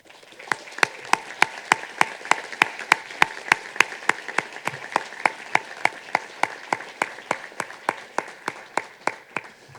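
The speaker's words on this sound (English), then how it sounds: "So if people who work at the center might please stand so we might clap for you too," Rhythmic audience clapping at a university research symposium reception, clear individual claps in a steady beat for about ten seconds, gradually softening toward the end.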